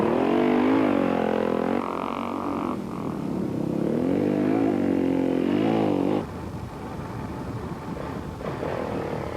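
A KTM rally raid motorcycle races through a Tunisian stage, its engine droning steadily and changing pitch as it passes at a distance, with a broadband rush of wind and terrain noise throughout.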